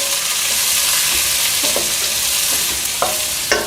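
Green chillies, shallots and garlic cloves stir-fried in a pan: a loud, steady sizzle of hot oil, punctuated by several sharp scrapes and clinks of a spoon against the pan.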